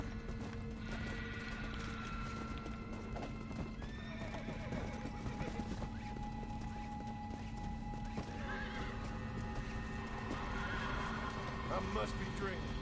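War horse hooves clip-clop at a gallop while the horse neighs and whinnies several times in the video game Red Dead Redemption: Undead Nightmare, with a steady rumble underneath and no talking.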